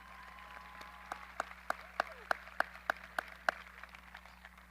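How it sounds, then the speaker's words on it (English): At a high school graduation ceremony in a large hall, about a dozen sharp, evenly spaced claps sound faint and distant against a quiet background hum. "Please give them a round of applause."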